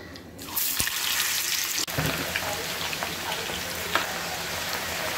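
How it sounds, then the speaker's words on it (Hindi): Soaked potato pieces fry in hot oil for a pulao, a steady loud sizzle and crackle with a sharp splash and spit as they go in, and a few pops through the frying. "अब जब ये फ्राई हो जाएगा, अच्छा गोल्डन कलर इसमें आ जाएगा, तो हम इसे निकाल लेंगे।"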